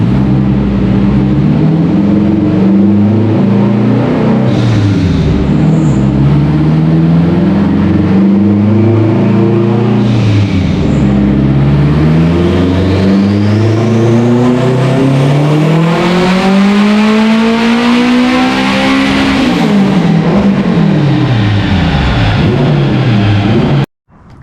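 A tuned all-wheel-drive Honda Civic with a K-swap engine and full VTC map revs hard and accelerates through repeated gear pulls, its loud engine note climbing and dropping continuously close up.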